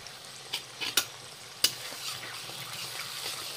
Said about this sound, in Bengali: মশলাটা ভালো করে কষায় নিতে লাগবো